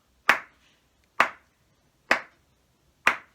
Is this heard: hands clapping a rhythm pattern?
yes